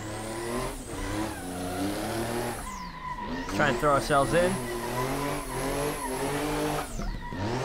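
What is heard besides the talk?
race cars revving and skidding in Assetto Corsa video game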